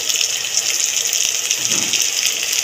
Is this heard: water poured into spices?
yes